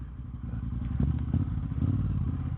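A 2018 Triumph Speedmaster motorcycle fitted with a Tech X exhaust pipe and Vance & Hines mufflers rumbles steadily and low, with a few thumps and clatters over the engine note and no talking.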